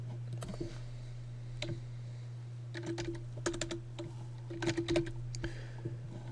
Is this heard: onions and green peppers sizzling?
no